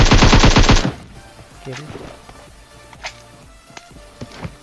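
An M4 rifle fires in the mobile game PUBG Mobile, opening with a loud rapid burst of automatic fire. Scattered, fainter single shots and soft footsteps follow.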